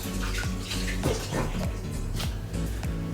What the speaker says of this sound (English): I'm gonna take out the seeds and rinse it off